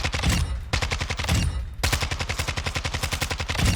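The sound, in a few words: SMG gunfire in Warzone 2 video game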